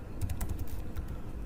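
Fingers tap out a short burst of keystrokes on a computer keyboard while entering a math expression, quick uneven clicks up close that trail off, with no one speaking.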